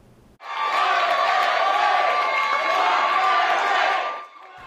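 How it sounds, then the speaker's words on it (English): Crowd in the Chicago City Council chamber erupting in a celebratory cheer after a vote to raise wages for tipped workers, a loud sustained roar of shouting and whoops lasting about four seconds before cutting off. "A celebratory cheer,"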